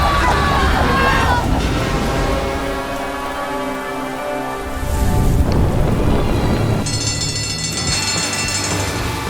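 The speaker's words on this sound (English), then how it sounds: "The storm was raging" Steady heavy rain pours down during a raging storm, a dense loud hiss running throughout, with tonal music or voices layered over it.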